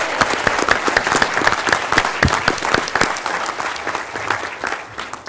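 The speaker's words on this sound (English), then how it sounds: "can we get a round of applause" An audience at a roundtable event applauds: dense, steady clapping from many hands, loud and sustained for the whole stretch, with faint crowd murmur underneath.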